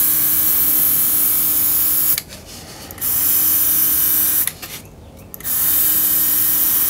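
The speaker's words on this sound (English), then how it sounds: "heat set it. Using my wife's hair dryer" A hair dryer on its heat setting drying paint gives a loud, steady blowing whir close by, cutting out briefly twice before resuming at the same level.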